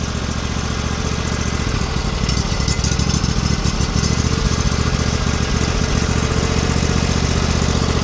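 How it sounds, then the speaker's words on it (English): A small tractor engine idles loud and close with a steady, rhythmic chugging after a hard start, its beat firming up slightly partway through. "Wow, that was almost not going to start"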